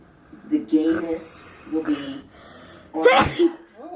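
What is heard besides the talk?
sneeze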